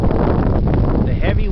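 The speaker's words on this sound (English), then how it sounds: "The heavy wind. Here it is." Heavy wind buffeting the microphone, a loud continuous rumbling roar with gusty low-end pressure and brief higher swishes near the end.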